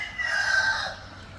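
A rooster gives one short crow among chickens in a farm fly pen, a single fairly near call over a quiet background.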